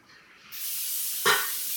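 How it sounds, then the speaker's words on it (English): Baking spray with flour hisses onto a cookie sheet in one steady, close burst lasting over a second, with a brief louder puff partway through. "Spray the cookie sheet with baking spray with flour"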